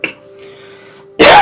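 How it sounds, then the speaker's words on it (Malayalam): A man coughs: a short hack at the start, then a loud, harsh burst of coughing near the end, close by and alone. "ചുമക്ക് ഇപ്പോഴും കുറവൊന്നുമില്ലേ?"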